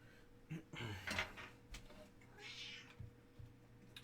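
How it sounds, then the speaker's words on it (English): A cat in a room during an electronics modding session gives a short close meow, followed by faint shuffling and light knocks nearby. "My cat Paul is in the room now"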